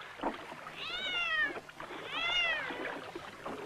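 Cat meowing twice, each a drawn-out rising and falling call about a second long, fairly close with faint background noise between them and no talk.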